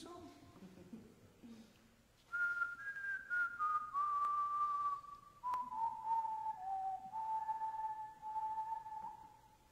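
A person whistles a melody from The Sound of Music, clear sustained tones moving through the tune after a brief quiet murmur, close and fairly soft.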